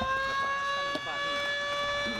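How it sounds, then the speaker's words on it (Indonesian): A steady, sustained siren tone at an office complex inauguration ceremony holds level and continuous throughout, with faint background noise beneath it. "Peresmian ditandai dengan menekan tombol sirine yang dilakukan secara bersama-sama."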